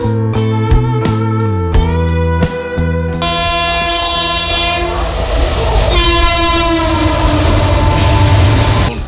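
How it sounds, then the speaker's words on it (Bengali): A local train's horn blares in short loud blasts at a station on the Howrah–Bardhaman main line, then a steady rumble and metallic screech as the train rolls in close by. "আমাদের ট্রেন ঢুকে গেছে"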